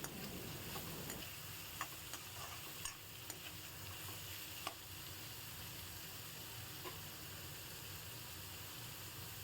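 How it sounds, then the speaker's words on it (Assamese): Radish pieces fry in a pan with onion, ginger and garlic, giving a soft continuous sizzle with a few sharp clicks of a spatula stirring, quiet and close. "দি এইখিনি এতিয়া ভালদৰে লৰাই ভাজি থাকিম"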